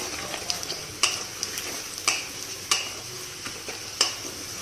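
Low sizzle of upma ingredients frying in a pan over a gas flame turned right down to simmer, with a few sharper scraping stir strokes spaced about a second apart.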